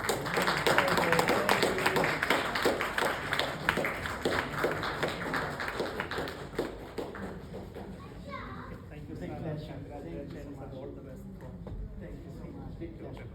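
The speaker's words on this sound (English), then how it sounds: "Can we have a big round of applause?" An audience claps for a book reveal at a book festival launch, a dense burst of applause that fades over several seconds into lighter scattered clapping, with children's voices and chatter mixed in.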